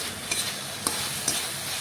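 Wild mushrooms (chhatu) fry in a pan and are flipped, a constant dense sizzle broken by a few brief scraping stirs of the spatula.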